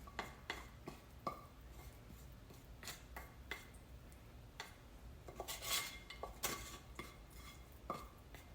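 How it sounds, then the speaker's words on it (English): A utensil scrapes stuck food off a skillet after plant-based whole-food cooking, giving a string of short metallic scrapes and taps at close range, with a denser cluster of scraping partway through. "there is still food stuck there, so I'm going to just scrape it"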